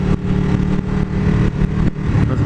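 A 2016 Ducati 959 Panigale sportbike engine pulls hard under throttle, a loud, steady mechanical drone with wind rush close up on the rider.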